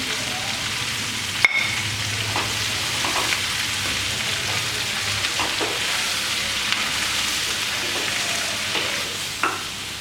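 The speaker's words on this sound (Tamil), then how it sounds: "இப்போது இந்த காய்கறிலாம் நல்லா வதங்கிடுச்சு இப்போ மசாலா தூள் போட்டுக்கலாம்" Mushroom and capsicum sauté in a pan with masala powder, giving a steady close sizzle with soft stirring scrapes and one sharp knock near the start.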